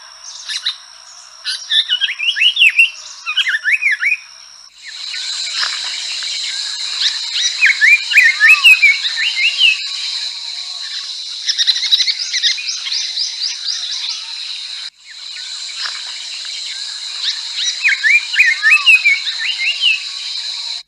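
A pair of Indian paradise flycatchers sings during mating, with loud, bright whistled phrases, rapid trills and chirps that come in repeated bursts over a steady high-pitched hum for about twenty seconds.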